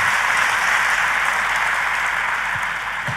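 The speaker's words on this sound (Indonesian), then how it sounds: "Boleh sekali lagi tepuk tanganmu yang paling meriah saudaraku." A church congregation claps loudly and steadily, a dense wash of applause that fills the whole moment before easing slightly at the end.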